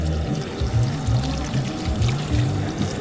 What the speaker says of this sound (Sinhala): මේකට දාන්නද වතුර?